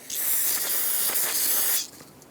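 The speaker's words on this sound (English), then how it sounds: "Use brake parts cleaner to rinse it off once you're done." A close, steady hiss of aerosol brake parts cleaner spraying onto front brake parts of a 2014-2018 GMC Terrain, one continuous burst of under two seconds that cuts off abruptly.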